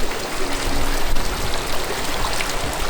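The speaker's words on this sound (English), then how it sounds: "That's what the water tank sounds like." Water from a mountain creek runs through an off-grid water tank, giving a steady, close rushing and trickling flow that stays even and fairly loud throughout.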